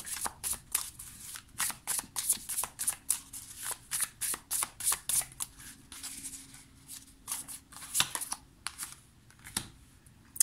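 Tarot cards being shuffled by hand, a rapid run of crisp riffling bursts in an uneven rhythm, close and fairly quiet, with no talk over it.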